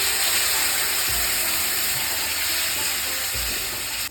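Spices sizzling in a hot pan as water is poured in while cooking dudh shukto: a loud, steady broadband hiss fills the whole stretch, with a couple of dull thumps along the way and a slight fade at the end.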